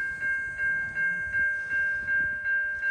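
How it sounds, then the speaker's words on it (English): Railroad crossing bells ding in a steady repeating rhythm, about three strokes per second, as a long train passes through in Canada, with a faint rumble of rail cars underneath. "If you're wondering what that dinging is, there's a train coming through."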